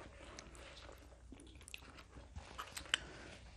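Pastrami chili cheese fries being chewed up close, with soft, wet, sloppy bites and occasional crunchy snaps over a quiet background.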